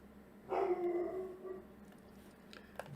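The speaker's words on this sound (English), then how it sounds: "Sorry about the dog." A dog howls indoors, one drawn-out mournful howl lasting about a second, heard moderately close against a quiet room hum.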